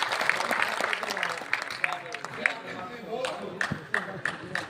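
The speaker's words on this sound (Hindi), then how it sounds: "एक बार जोरदार तालियां मिलकर आप सब बताइए।" An audience at a ghazal and poetry gathering claps on request, uneven applause mixed with voices and crowd murmur, with scattered sharp claps standing out.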